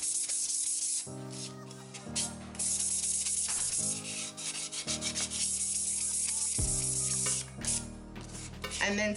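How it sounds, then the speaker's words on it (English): Close, loud abrasive rasping as a metal cup is sanded by hand, in uneven strokes with brief pauses between passes and no talking. "you're gonna sand, and you will smell some of the metal"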